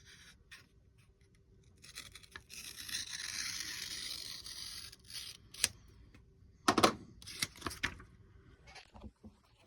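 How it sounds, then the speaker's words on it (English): A knife slitting open the packaging around a book, heard as close, quiet scraping and rustling that builds into a longer scratchy stretch, followed by a few sharp snaps and taps. "I'm going to try not to cut myself on my knife. And I'm going to try not to cut the book"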